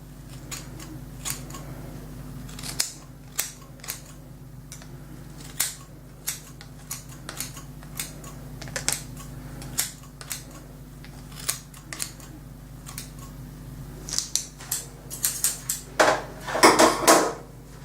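Scissors snip through hair during a home self-haircut, a long run of sharp, close metallic clicks at an irregular rhythm, getting denser and louder near the end, with no voices.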